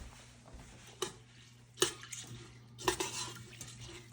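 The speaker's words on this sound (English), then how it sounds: "we're going to mix that together so that the rice is green" Sticky rice is mixed with pandan extract in a bowl, with a few soft spoon clinks and scrapes against the dish over quiet background, close and unhurried.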